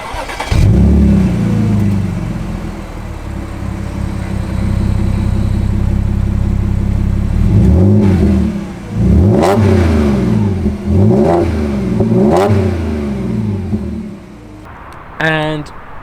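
An Audi B8 S4 with the back box cut out and replaced by straight tube and tips idles with a deep burble, then revs hard several times, each blip rising and falling loudly up close.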